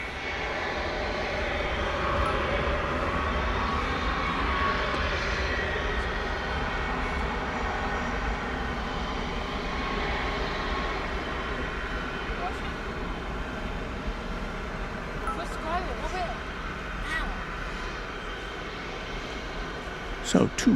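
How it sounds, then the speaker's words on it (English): An American Airlines Boeing 777 departing Dallas/Fort Worth for Phoenix at night rumbles with a sustained, heavy engine roar, steady and fairly near, with faint voices underneath. "We've got American Flight 1768 off to Phoenix"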